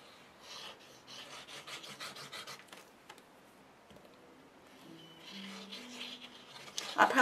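Soft, uneven rubbing and rasping as glue is wiped off the edges of paper pages for a handmade mini album, in close, quick strokes with short pauses and a brief louder scrape at the end.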